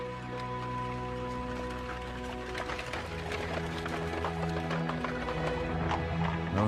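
Hooves clip-clop steadily on a hard road beneath a constant low rumble and rattle as a heavy horse-drawn stagecoach rolls past at moderate distance.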